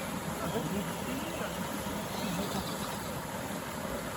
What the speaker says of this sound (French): Et dans l'autre sens, avec la cascade derrière, c'est joli, derrière.